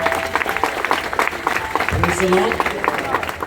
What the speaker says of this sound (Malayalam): നല്ലൊരു കൈയടി എടുത്ത് കർത്താവിനെ മഹത്വപ്പെടുത്താൻ